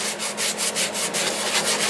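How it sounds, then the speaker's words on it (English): Rhythmic back-and-forth sanding strokes with 120 grit sandpaper scratch over hazel wood, about ten quick rasping passes in a steady, close-up rhythm. "I'll be sanding with 120 grit here"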